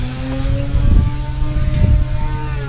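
An E-flite Twin Timber 1.6 m twin-propeller RC plane buzzes steadily overhead, its motor drone swelling twice as it passes or banks against wind noise, with no talking.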